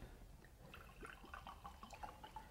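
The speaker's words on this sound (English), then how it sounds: "I'll pour the ice wine." Ice wine poured from a bottle into a glass at a vineyard tasting, a faint thin trickle with small bright splashes and gurgles that builds over a couple of seconds, quiet and close.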